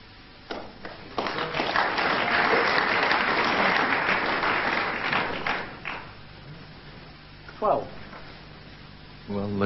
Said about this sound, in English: the crowd has certainly got behind Nigel